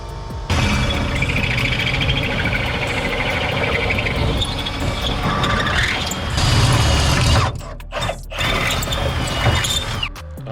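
A drill cuts a large hole for a 25 HP outboard motor mount, grinding loudly and continuously with ratcheting, mechanical texture, then cutting out briefly twice near the end before resuming.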